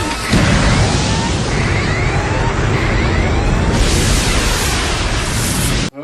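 Rocket ship blasting off, a loud, steady roar of broadband rumble and hiss that surges up after a brief start and holds for about six seconds before cutting off abruptly.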